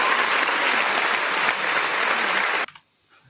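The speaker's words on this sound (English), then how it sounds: "Boy, those applause are way too long." Recorded applause sound effect in a live pinball game, a dense, loud burst of clapping and crowd noise lasting over two seconds before cutting off abruptly into near silence.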